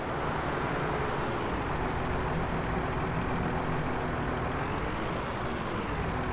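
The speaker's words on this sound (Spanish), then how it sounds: "Este tractor suena poquísimo." A tractor engine in the farming video game Farming Simulator 19 drones steadily and fairly quietly, a continuous low rumble with a faint tonal hum that holds unchanged throughout, with no talk over it.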